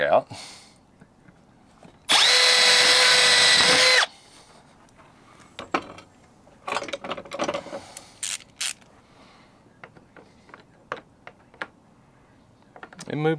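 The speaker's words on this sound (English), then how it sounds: "drill the rivet back out" A power drill whines loudly for about two seconds while drilling out a rivet on an Airstream trailer door, followed by scattered clicks, taps and handling noises of tools in a quiet workshop.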